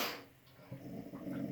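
A dog growls low and close, a rough continuous rumble that wavers and grows slightly stronger toward the end.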